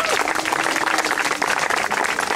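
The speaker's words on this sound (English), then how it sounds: "I think they deserve a round of applause" An audience at a Star Tribune union rally applauds the bargaining committee, a thick, continuous patter of many hands clapping that stays loud and even for a couple of seconds.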